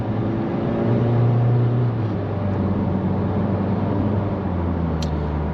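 A 2009 Citroen C5 Touring Exclusive with the 2.0 HDi 136 diesel and automatic gearbox accelerates on a track, giving a steady, smooth, close engine drone with a low rumble and no sharp changes.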